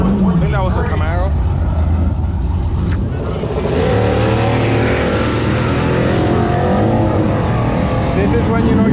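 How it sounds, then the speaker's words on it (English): Chevrolet Camaro race car at a drag strip, a loud roaring engine passing by with shifting pitch, heavy continuous rumble dominating, with people talking over it. "I think that was a Camaro."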